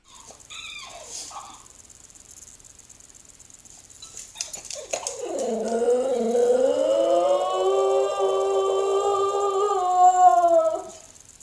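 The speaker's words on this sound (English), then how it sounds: "this is not the sound that Pixel ever makes" A dog caught on a home pet camera making an unusual drawn-out howling, whining cry that rises and wavers for several seconds after a few faint sharp noises at the start.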